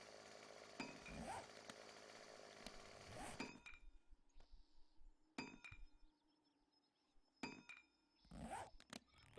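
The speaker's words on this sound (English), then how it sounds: "and I can whip out the chainsaw." Chainsaw in the video game 7 Days to Die (alpha 10.4), heard as faint, raspy revving bursts with metallic clinks, rising and falling in short surges and quiet between them.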